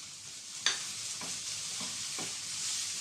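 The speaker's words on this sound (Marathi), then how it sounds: "आता याच्यात परतून घेते." Onion with garlic, ginger and green chillies sautés in a pan, a steady close sizzle broken by a few spatula scrapes.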